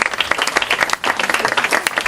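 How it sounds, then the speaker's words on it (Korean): Sustained applause from an audience at a party caucus meeting, dense steady clapping for about two seconds with a brief dip midway, no voices over it. "큰 박수 부탁드리겠습니다"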